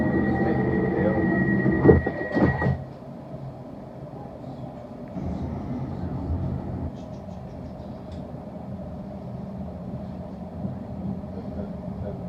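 A London Overground train on the Liverpool Street to Enfield Town run rumbles and hums steadily through the cabin, with a brief louder clatter and a fading tone early on, then a level running drone.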